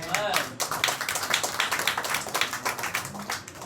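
A church congregation claps together during a sermon, a dense run of rapid, overlapping hand claps that stays steady and fairly loud throughout.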